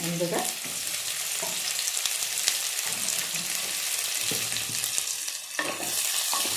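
Onion and cabbage fry in hot oil for masala Maggi, a steady close sizzle with stirring scrapes and clatters throughout, and a brief spoken word partway through.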